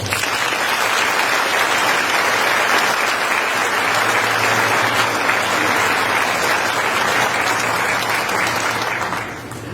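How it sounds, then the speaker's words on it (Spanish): Loud, sustained applause from a conference audience fills the whole clip steadily, then fades out at the very end. "Le damos un fuerte aplauso."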